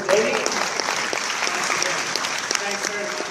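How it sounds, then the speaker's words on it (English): An audience at a tech conference bursts into sustained applause for a speaker, dense clapping filling the room at an even level for several seconds. "great, big round of applause for Jamie"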